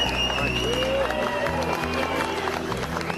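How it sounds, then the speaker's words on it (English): A crowd applauds and cheers for award winners at the 2006 Gumball 3000 rally prize ceremony, a steady dense wash of clapping and voices lasting the whole stretch, with a host talking over it. "Give those guys a cheer."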